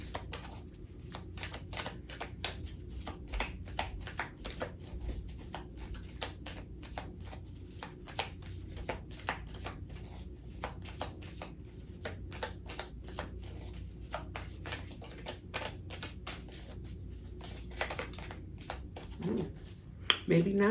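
A deck of cards is shuffled over and over in a quick run of soft, crisp riffling clicks that stays close and fairly quiet, with a person talking at times.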